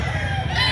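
A young gamecock stag crows at a busy chicken market in Lipa, Batangas, a short burst of crowing over a dense din of other fowl and background noise.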